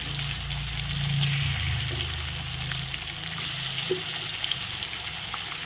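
Pieces of boal fish head fry in hot oil in a pan, giving a steady low sizzle and crackle with a few small pops, moderately close and without talk.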